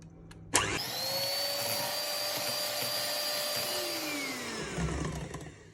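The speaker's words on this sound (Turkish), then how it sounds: "böyle köpük köpük oluncaya dek çırpacağım yumurta ve şekeri" An electric mixer whisks eggs and sugar until foamy, a steady close motor whine starting abruptly and holding for several seconds before winding down, with no talking.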